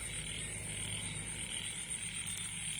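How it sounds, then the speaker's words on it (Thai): A dense chorus of frogs croaks continuously in a rice field on a rainy evening, an even, unbroken layer of calls at moderate distance with no voices. "โอ้มีเสียกบด้วย"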